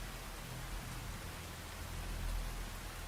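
Medium rain during a tank ambush mission in the Phantom Brigade giant-robot game, a steady, even wash of rainfall noise with a low rumble beneath, continuous and fairly quiet, with no talking.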